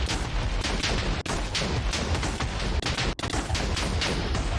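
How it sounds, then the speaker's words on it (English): Minecraft explosions blasting away bedrock rumble in a dense, continuous barrage, loud and booming with brief gaps, no voices heard. "That should be the last explosion."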